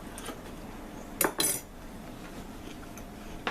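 A knife and fork work through a pan-cooked New York strip steak on a plate, giving two short metallic scrapes and clinks close by, followed by quiet room tone with no talking.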